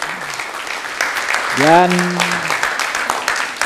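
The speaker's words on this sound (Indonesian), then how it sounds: "tepuk tangan sekali lagi oleh beliau tadi ya" Audience applause at a national gathering of Nusantara kings and sultans, a steady crackling patter of many hands with a voice briefly speaking over it midway.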